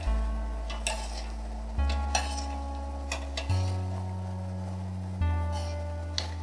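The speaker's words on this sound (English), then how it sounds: "So just keep stirring and stirring." Utensil scraping and knocking against a pot of potatoes for mac and cheese in repeated strokes, with quiet sizzling underneath and a low steady hum.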